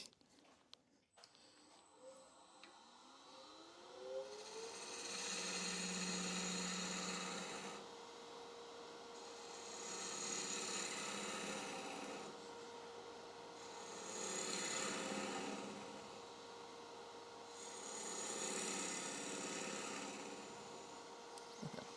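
Mulberry hollowform being flattened on a wood lathe, with a tool scraping the spinning wood in four long, even passes separated by short pauses, over a steady motor hum.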